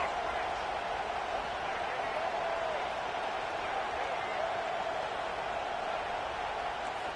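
Stadium crowd in the video game College Football 25, a red-zone moment: a steady, loud roar of crowd noise with no break, broad and washed-out.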